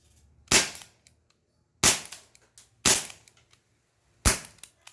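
A CP88 airgun fires four sharp, loud shots with a double-action trigger pull, each a crisp crack followed by a short decay. The shots are spaced irregularly over a few seconds, with near silence between them.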